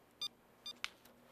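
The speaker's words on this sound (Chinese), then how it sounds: "你马上打电话给阿彪问清楚" Two short electronic telephone dialing beeps sound a moment apart, followed by a third sharper tone, faint and isolated against a quiet background.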